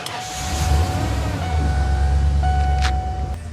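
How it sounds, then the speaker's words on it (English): A truck engine runs steadily up close, a continuous low rumble with a faint whine above it and no one speaking. "So all we gotta do is fire the truck up."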